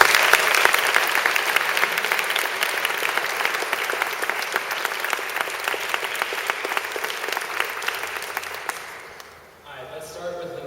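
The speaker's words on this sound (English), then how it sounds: "Let's give them a round of applause." A crowd at a 2011 graduation ceremony applauds steadily for several seconds, dense and sustained clapping that fades out near the end.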